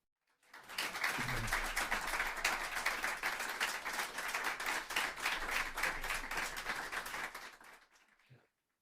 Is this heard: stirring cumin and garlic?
no